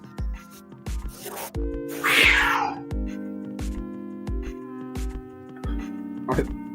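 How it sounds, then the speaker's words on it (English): Cats fighting, one smaller cat attacking a bigger one, with a harsh drawn-out yowl near the middle and brief cries later, all set over steady rhythmic music and thumping beats. "Them cats going at it, boy."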